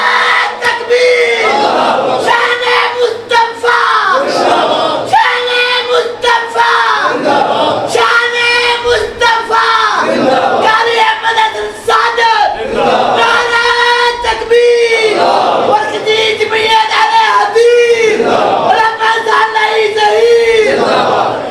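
A large crowd at a religious speech gathering chants religious slogans in loud, unison bursts that repeat rhythmically and steadily throughout, with no talk over them.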